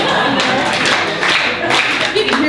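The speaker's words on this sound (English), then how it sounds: "All right, if you can hear my voice, clap" Classroom of children clapping in response to a teacher's call, a dense burst of many hands clapping together, loud and close, with some voices mixed in.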